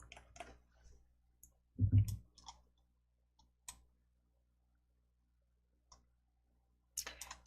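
Computer mouse clicks on a PowerPoint task, a few sharp isolated taps spread across near-silence, one louder double click near the middle.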